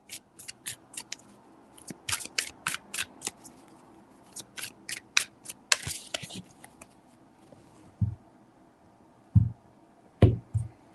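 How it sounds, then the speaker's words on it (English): Tarot cards shuffled three times, giving clusters of sharp, papery riffles and snaps close by. Softer handling noises and a few low thumps follow, and no one speaks. "3 shuffles."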